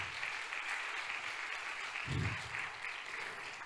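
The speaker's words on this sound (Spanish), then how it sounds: "Dele un aplauso al Señor." A church congregation applauds together, a steady, fairly distant wash of clapping that holds evenly throughout with a brief low thump near the middle.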